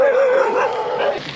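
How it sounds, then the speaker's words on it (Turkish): A dog gives a drawn-out whining bark, fairly close and loud, fading at the end. "Bu Kamboçya sınırına yaklaştıkça köpek sayısı da artmaya başladı"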